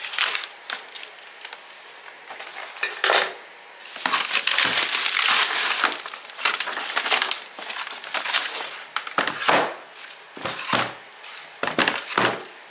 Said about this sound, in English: open up your coco coir, and we're actually going to use all 3 of these blocks